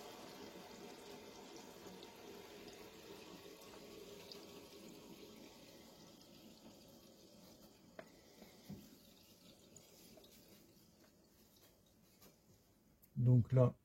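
Water rushes into anti-scale filter housings, a steady, faint filling hiss that slowly thins over several seconds, with someone speaking over it and a couple of sharp knocks at the end.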